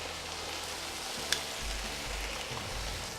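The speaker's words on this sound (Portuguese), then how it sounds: "então selar. Primeiro com o lado da pele para baixo." Chicken pieces sear skin-side down in a hot pan, giving a steady, soft sizzle and crackle with one brief sharp tick partway through; no voices.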